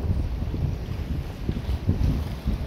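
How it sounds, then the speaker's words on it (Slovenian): Waves break on a reef off Gizo in the Solomon Islands, a low, distant rumble under steady gusting wind buffeting the microphone aboard a rocking sailboat. "Kako se na grebenu razbijajo valovi."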